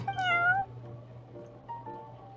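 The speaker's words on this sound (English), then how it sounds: "Dapper looking cat there." A cat named Prince in Genshin Impact gives a single clear, fairly close meow, followed by quiet game background sound.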